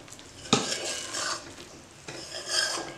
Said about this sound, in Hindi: आपको इसको कंटिन्यूस हिलाना है ताकि आपको जो बोलते ना मैदा इक्वली हर जगह से सुनहरा हो